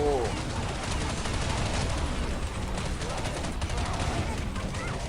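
MP5 submachine gun firing in Counter-Strike Online Zombie Z, a steady rattle of fast automatic shots in a busy, noisy battle mix, moderately loud and continuous throughout.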